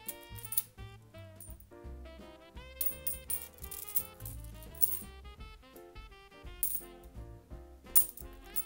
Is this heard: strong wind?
no